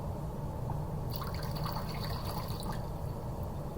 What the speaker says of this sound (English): I'm going to go ahead and pour that water off